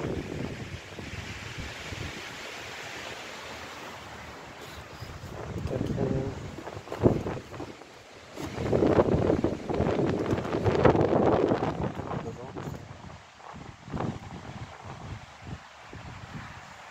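Steady outdoor wind buffeting the microphone, a continuous rushing roar that swells louder in the middle, with faint voices now and then underneath.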